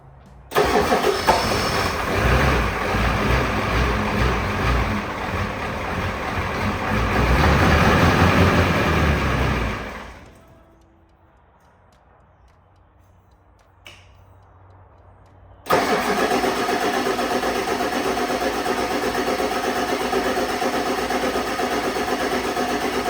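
Ford 7.3 IDI diesel engine cranking and catching, running loud and rough near the microphone for about ten seconds, then cutting out to near silence before starting again and settling into a steady run.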